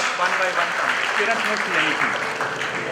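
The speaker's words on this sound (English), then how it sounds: "A round of applause, ladies and gentlemen." A graduation ceremony audience applauds an award for innovative educational institution, a steady dense clapping with voices mixed in beneath it.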